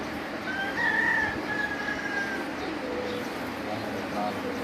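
Lakha pigeons on a rooftop coop, with soft cooing and bird calls spread through a noisy outdoor scene, a faint crow-like call near the start, moderately loud against steady background hiss.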